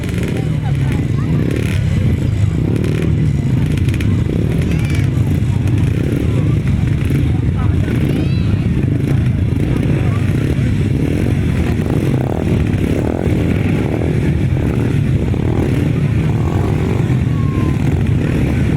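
Grasstrack racing motorcycles idle and rev together on the start line before a race, a loud continuous engine drone with rising and falling throttle blips, with an announcer talking over it.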